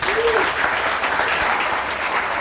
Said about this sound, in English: Lady Irina Radulescu, a big applause, please.